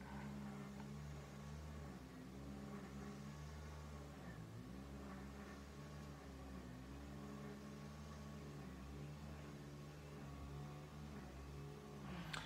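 A steady motor drone hums throughout at low level, wavering slightly in pitch like a distant lawn mower running in the background.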